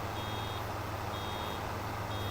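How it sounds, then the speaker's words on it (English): A baler-full warning beep in the Farming Simulator 25 video game, a steady high tone repeating over a constant low machinery hum, with no talk. "When you get close to your baler being full, it's going to beep"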